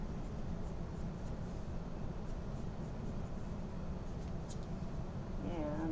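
A 2H pencil cross-hatches lines on paper under light pressure, giving a continuous, dense scratchy hiss of graphite strokes, close and steady throughout.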